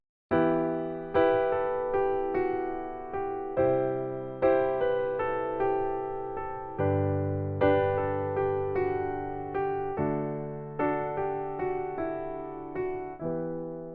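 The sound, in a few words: pop piano fill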